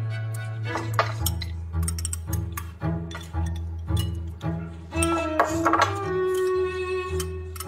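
Dishes and cutlery clink repeatedly at a dinner table during a meal, bright scattered chinks of bowls and utensils close by, with a steady low musical tone running underneath.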